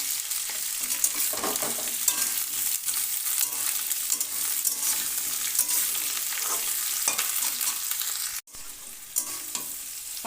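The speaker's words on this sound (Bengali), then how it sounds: "ভালো করে ভেজে নেব।" Mixed vegetables for a Bengali vegetarian chhokka sizzle steadily in a hot pan, with frequent scraping and clattering as a spatula stirs them, close and continuous.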